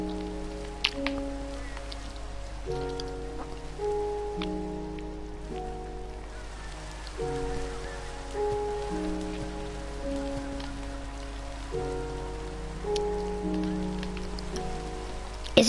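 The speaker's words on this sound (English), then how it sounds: "Oh, it's raining." Steady rain hisses across the ground in Minecraft, a soft, even wash of noise running the whole time beneath looping game music with stacked sustained tones.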